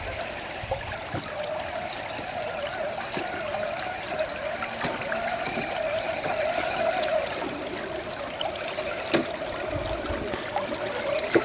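Rainwater runoff trickles steadily into a catch basin outdoors, a soft continuous running-water sound heard alone at low level.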